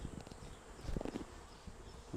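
Honeybee drones buzzing around an open brood box during a transfer into a new Flow Hive, a dense, steady insect drone close by with a few louder swells as bees pass near, no talking.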